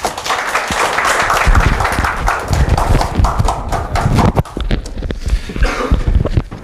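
Loud, dense audience applause fills a meeting hall from start to finish, a steady roar of many hands clapping together that thins slightly toward the end.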